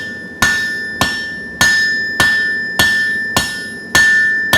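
Hofi hammer forging hot metal on an anvil, seven evenly spaced sharp ringing strikes with a bright metallic after-ring, loud and close with no talk.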